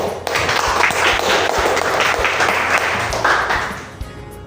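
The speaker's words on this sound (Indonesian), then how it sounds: "Kasih aplaus dulu." Students in a classroom give a round of applause: dense, moderately close clapping that holds steady for several seconds and then thins out toward the end.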